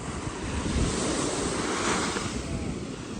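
Sea waves surge and draw back along the Malvan shore, a loud, continuous wash of surf rising and falling, mixed with wind buffeting the microphone.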